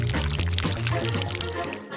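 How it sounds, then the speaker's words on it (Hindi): Thick paste pouring onto toast on a toy dollhouse conveyor, a continuous close liquid gurgle and splatter lasting about two seconds before cutting off. "हम पेस्ट को टोस्ट पर डालेंगे।"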